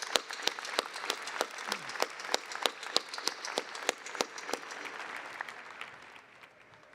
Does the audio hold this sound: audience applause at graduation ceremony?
yes